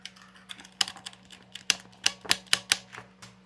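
Crisp, clacky keystrokes from a mechanical keyboard, close up, struck in an uneven rhythm with several loud sharp clicks.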